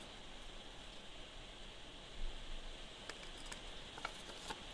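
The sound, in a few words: rain starting outside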